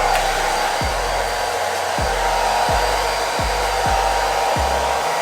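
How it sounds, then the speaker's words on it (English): A T3 hair dryer runs on its highest heat setting, giving a steady, loud airflow roar with a constant whine that holds unchanged from start to finish, with no voices over it. "So I'm gonna just put this on the highest heat setting."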